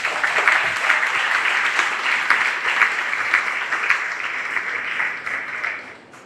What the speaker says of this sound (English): Let's give Marilyn a round of applause